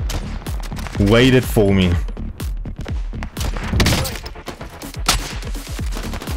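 Gunfire and sniper shots in an online multiplayer shooter match, bursts of shots and thuds repeating throughout, mixed with excited talk from players over the action.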